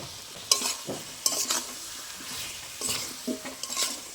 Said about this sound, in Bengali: মশলার সাথে সবজিগুলো ভালো করে কষিয়ে নেবো